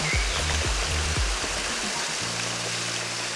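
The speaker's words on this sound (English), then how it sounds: "I'm showing a view from behind some ferns which reveals a small waterfall" A small woodland waterfall splashes and rushes steadily close by beside a gravel path among ferns, a continuous watery hiss with faint low thumps in the background.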